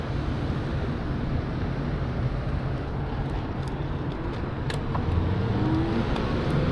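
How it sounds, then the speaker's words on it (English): A car turns right on a residential street at night, its road noise and engine a steady wash that stays close and continuous, with heavy wind rumble. "Okay, we got a car turning right."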